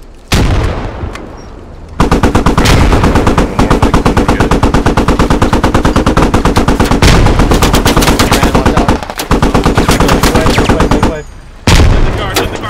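In the video game Squad, loud, close machine gun fire rattles in long sustained bursts with a few short pauses between them. It dominates the clip, and no speech can be heard over it.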